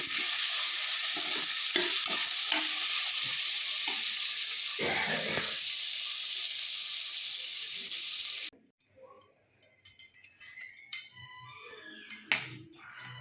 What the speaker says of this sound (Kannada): ಈಗ ಚೆನ್ನಾಗಿ ಫ್ರೈ ಆಗ್ತದೆ. ಲೋ ಫ್ಲೇಮಲ್ಲಿ ಇಟ್ಕೊಂಡು ಚೆನ್ನಾಗಿ ಫ್ರೈ ಆಗಲಿ.